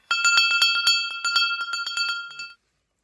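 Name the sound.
small metal bell ringing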